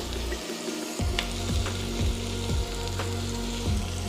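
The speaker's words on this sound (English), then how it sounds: "Now I'm gonna go ahead and add the peppers." Peppers sizzle in a skillet with sausage and onions: a brief hush early on gives way to a loud, steady frying hiss with a stirring scrape about every half second.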